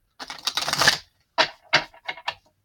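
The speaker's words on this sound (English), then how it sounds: "Quick shuffle." Quick papery riffling of oracle cards being shuffled, a longer flurry followed by a few short crisp bursts, close and fairly quiet.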